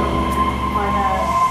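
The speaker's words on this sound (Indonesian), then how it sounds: "Ini suasana di terowongan di tempat kereta" A subway train rumbles through a tunnel in Osaka, loud and close, with a steady low roar and a high metallic whine from the wheels, while faint voices sit underneath.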